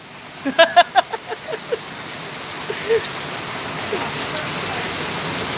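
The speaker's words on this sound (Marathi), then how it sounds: "अहो बेकार पाऊस पडतोय बेकार" Heavy rain hisses steadily throughout, with a few short voice-like calls near the start and faint scattered sounds later.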